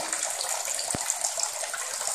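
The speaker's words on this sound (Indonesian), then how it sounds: "Nah, di dalamnya air mengalir" Water flows steadily through the channels of a homemade NFT hydroponic system, giving a constant close hiss and gurgle with a single soft knock partway through.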